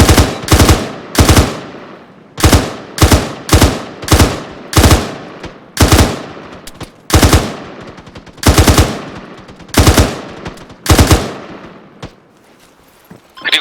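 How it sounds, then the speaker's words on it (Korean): Bursts of automatic gunfire from a squad advancing on a village in the video game ARMA 3, loud, close and repeated in short volleys with brief pauses between them. "전진하면서 사격하세요"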